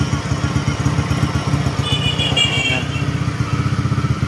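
A Honda Click 125/150 scooter engine runs close by at a steady idle, its noisy aftermarket-style muffler giving a loud, fast, even putter with a deep drone, while a brief higher whine rises in the middle.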